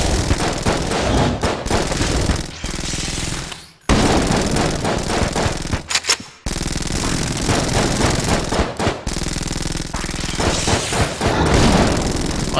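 Rapid, loud gunfire rattles almost nonstop in the video game Enter the Gungeon, with dense automatic bursts and booms broken by a few brief pauses.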